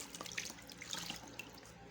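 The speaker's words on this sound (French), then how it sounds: "Il faut faire le rinçage avec de l'eau tiède." Lukewarm tap water runs steadily for rinsing off a rice flour face scrub, a faint continuous splashing at a sink with scattered small drips.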